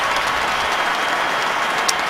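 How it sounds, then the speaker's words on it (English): Football stadium crowd at a Bills at Colts game in 2012, a dense, continuous roar of cheering and applause that holds steady throughout, loud and distant-sounding, with no distinct voices standing out. "Crowd reacting to Megan with the finishing touches being applied"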